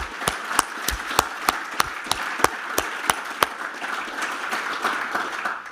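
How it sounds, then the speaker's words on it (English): Members' conference audience gives a round of applause: a few sharp, close claps in an even rhythm stand out over a dense wash of clapping, then the crowd keeps going without the near claps. "So can you all join me in a round of applause for the amazing IOE team?"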